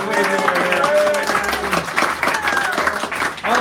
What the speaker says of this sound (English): Give Garrett a round of applause